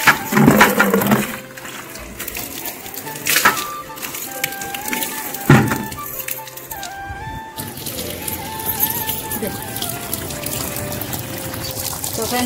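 Tap water pours into a bucket with a steady splashing trickle, and a rooster and other birds call in the background of a home setting.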